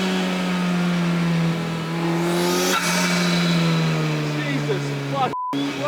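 An Ariel Atom 4 accelerates hard, its engine note rising steadily in pitch through the run as it pulls away, loud and close, with a brief break near the end.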